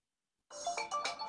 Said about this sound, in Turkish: şu an gördüğünüz gibi telefonuma hemen bir bildirim gönderdi